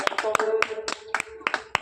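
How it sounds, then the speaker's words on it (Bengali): People clap in quick, uneven bursts at a lively local ball-in-bottle prize game. The claps ring out sharply and close over an excited voice talking. "হাততালি হাততালি"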